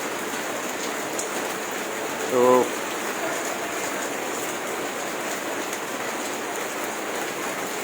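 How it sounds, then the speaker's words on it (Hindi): Heavy rain pours down in a steady, even wash of sound, with a single brief spoken word breaking through midway. "गजब की बारिश हो रही है"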